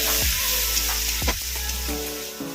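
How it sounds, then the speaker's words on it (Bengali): Spices sizzle and fry steadily in a hot pot for chicken biryani, a close, continuous crackling hiss with brief stirring scrapes around each second. "এখন সব মশলাগুলো একটু ভালো করে কষিয়ে নেব।"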